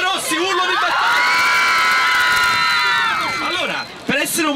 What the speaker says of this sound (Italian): per la squadra dei rossi urlo di battaglia